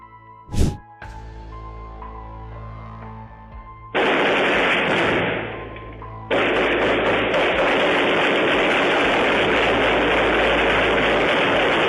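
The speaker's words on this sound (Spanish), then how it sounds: "el atronador sonido de disparos automáticos" Loud automatic gunfire in long sustained bursts, a brief pause between, after a sharp bang and a ringing tone at the start.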